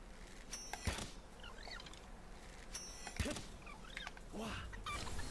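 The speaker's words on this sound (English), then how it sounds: "Go, chicken!" A chicken creature in the Palworld video game clucks in short repeated bursts, mixed with sharp game hit sounds and effects at moderate volume.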